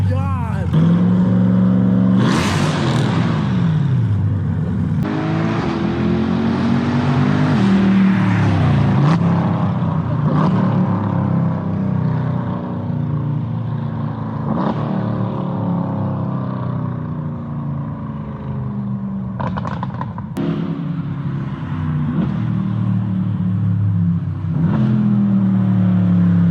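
Several cars, including a C8 Corvette with an aftermarket exhaust, roar past one after another, engines revving up and fading away, with loud exhaust bursts and shouting voices between passes.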